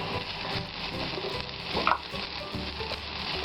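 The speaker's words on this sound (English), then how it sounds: "Saute them till they are translucent." Onions sautéing until translucent with ginger and garlic paste for cauliflower Manchurian make a loud, dense sizzle close by. Stirring adds a sharp scrape near the middle.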